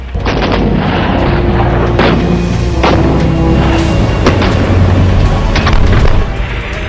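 A battle sound effect of military gunfire: loud, repeated booming shots and artillery-like blasts in an irregular rapid sequence over a constant rumbling background, with no speech.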